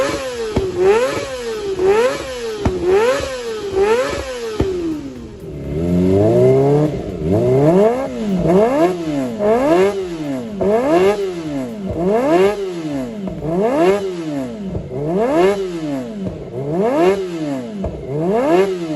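A Kawasaki Ninja ZX25R fitted with a WRX aftermarket exhaust revs hard and repeatedly, its high-pitched inline-four wail climbing and falling in quick, rhythmic sweeps, loud and close with no talk over it.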